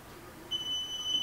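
A radiation detector's high, steady electronic alarm tone sounds continuously, starting partway through and holding over faint background hiss.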